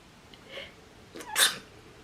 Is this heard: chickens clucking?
no